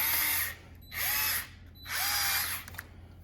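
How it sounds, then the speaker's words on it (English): A power tool drives bolts on a Minn Kota Ulterra trim motor housing in three loud, close bursts with short pauses between, ending in a few ratcheting clicks. "At this point, you can take your power tool"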